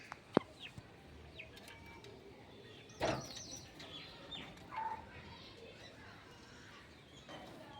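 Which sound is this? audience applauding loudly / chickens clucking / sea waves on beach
chickens clucking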